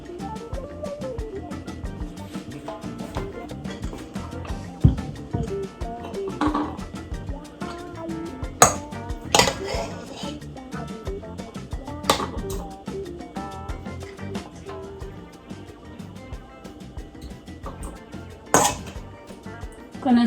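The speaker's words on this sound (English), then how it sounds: "I'm gonna fill up the bottles with some beef." Bottles are filled with BBQ beef for soup, with steady clinks and taps of containers and utensils that rise and fall throughout, plus a few sharper knocks.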